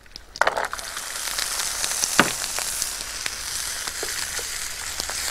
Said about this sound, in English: Then I'm going to fry the chopped celery